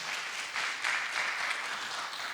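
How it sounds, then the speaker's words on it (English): Audience applause at a seminar in Kuala Lumpur, a soft, dense wash of clapping from a crowd heard at a distance, swelling slightly midway and holding steady for a couple of seconds. "The louder your applause, okay?"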